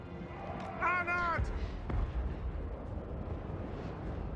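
A dwarf flame cannon fires in a Warhammer strategy game with a brief roaring burst, followed by rumbling battle noise while a voice speaks briefly.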